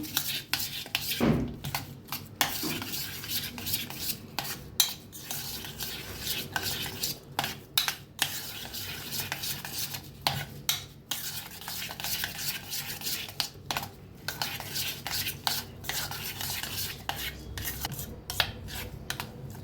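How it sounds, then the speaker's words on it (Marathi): Hung curd being stirred in a bowl for shrimp-free sweet shrikhand, a steady scraping and knocking of a spoon against the vessel, close and continuous with brief pauses, no talk. "आता दह्याला काढून घेतलेलं आहे, चांगलं असं मिक्स करून घेऊया"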